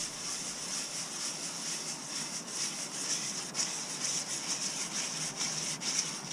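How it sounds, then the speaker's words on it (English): Sandpaper rubs lightly over a 1/14 scale model truck cab for a coffin sleeper build, giving a steady, soft hissing scrape that runs continuously at close range with no voices. "just let the sandpaper do the work"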